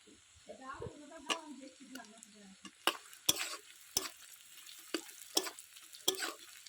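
Chopped green chillies tossed into onions frying in oil, a brief burst of sizzling followed by sharp spatula taps and scrapes against the pan at irregular intervals.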